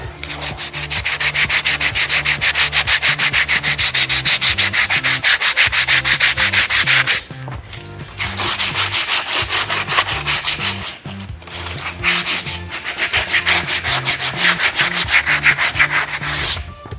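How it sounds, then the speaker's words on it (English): Filler on a wooden window frame of a French chateau's grand salon being sanded by hand, a loud close rhythmic scraping rub in long steady bursts with two short pauses, no talking. "So that's all rubbed down."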